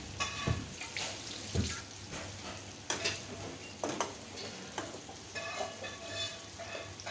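Oil sizzles steadily in a pan as prawns fry, with occasional scraping and stirring clatters; no voices.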